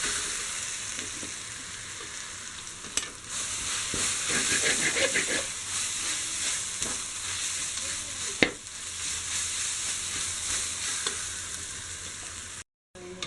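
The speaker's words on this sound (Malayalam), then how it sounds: "ഒരു ചെറിയ ഗോൾഡൻ കളറാകുന്ന ഇതുവരെ ഒന്ന് ഇളക്കി കൊടുക്കുക." Onion with ginger-garlic paste frying in a pan for an egg biriyani, a steady close sizzle and hiss with a few clinks and scrapes from the stirring spoon, no talking.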